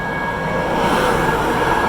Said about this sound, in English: the train's right here